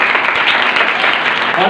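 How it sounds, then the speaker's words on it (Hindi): An audience claps at a speech gathering, a dense, loud burst of applause that keeps going steadily through the short moment. "ताली हो जाए।"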